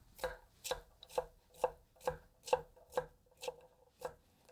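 Kitchen knife push-chopping vegetables on a board for a fine julienne, about ten evenly spaced, crisp chops in a steady rhythm, close and faint, no talking.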